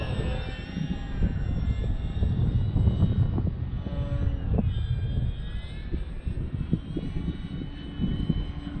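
An Xfly Tasman RC airplane flies on a sunny day, its steady electric motor whine droning continuously and fairly loud, with the pitch shifting slightly as it passes.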